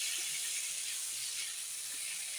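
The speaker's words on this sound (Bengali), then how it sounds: "এই লাল লাল করে ভাজা হয়ে গেছে" Spices fry in a pan with ginger-garlic paste, giving a steady, soft, even hiss of sizzling oil with no pauses or pops.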